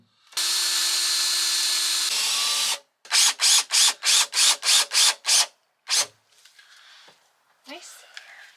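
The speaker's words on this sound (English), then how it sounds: "going to pre-drill the holes" A power drill whines in a long steady run, then revs in seven quick bursts and one more, pre-drilling screw holes for a diesel heater vent in a 2019 Sprinter van, followed by faint handling noises and a brief voice.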